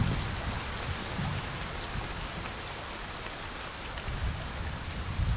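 Steady rain pours through a forest on Wolchulsan near the Muwisa temple, a dense even hiss of drops on leaves and ground with no other sounds.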